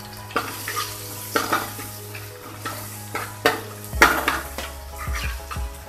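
Ginger fries in hot oil in a pan for a banana flower cutlet. A steady sizzle runs under repeated metallic scrapes and clinks of a spoon stirring, with one louder clatter midway.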